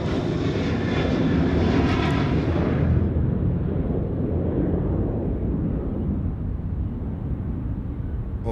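Qantas Airbus A330-200 airliner taking off from Sydney Airport, a loud sustained jet engine roar that stays steady and powerful throughout, with broadband rumble and no talking.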